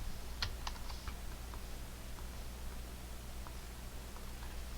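Typing on a computer keyboard, a few quick clustered key clicks early on followed by sparse, faint single taps over a quiet room hiss.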